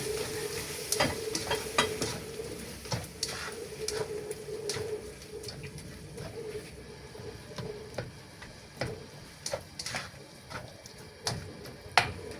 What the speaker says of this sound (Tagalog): Lagay na natin yung munggo natin guys.